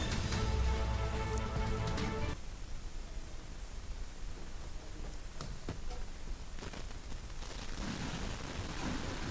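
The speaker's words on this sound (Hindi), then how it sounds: "कड़कती बिजली के साथ हो रही जोरदार बारिश से सराबोर हुआ नोएडा।" Heavy rain falls over Noida during a thunderstorm as a steady, broadband hiss, entering after a brief, louder tonal passage at the start and continuing evenly to the end.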